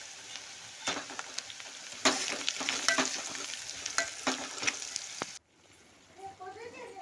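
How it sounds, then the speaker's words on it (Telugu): A spoon stirs turmeric and ginger garlic paste around a hot frying pan with a steady sizzle and repeated scraping clacks. Partway through the stirring stops, and a quieter, softer frying hiss carries on alone. "కొద్దిగా పసుపు, బాగా కలిపేస్తున్నాను."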